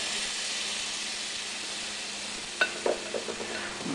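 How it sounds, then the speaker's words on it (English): Buckwheat pancake batter, thick, sizzles in a hot pan, a steady broadband frying hiss throughout with a few soft clicks and taps near the end. "put a little bit of batter down"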